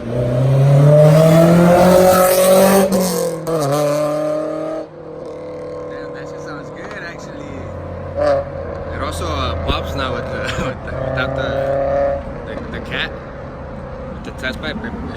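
A Honda S2000 fitted with an Invidia test pipe and two mufflers revs loudly at first, then drops to a lower burble with scattered sharp exhaust pops, while people talk nearby.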